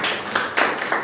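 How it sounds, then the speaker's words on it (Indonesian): A church congregation claps during a Christian sermon, a brief dense round of hand claps with no speech over it. "Beri tepuk tangan dulu."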